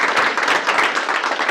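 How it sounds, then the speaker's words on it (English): Audience at a real estate stakeholder meeting claps, a brief, dense burst of many hands sounding close and steady with no talk. "You can clap for that."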